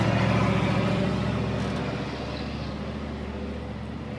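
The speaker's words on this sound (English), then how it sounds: "a really loud car went by" A loud car passing nearby, a heavy engine drone with a low rumbling rhythm that is strongest at first and gradually fades as it moves away.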